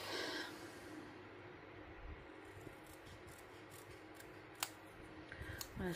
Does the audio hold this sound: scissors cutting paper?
yes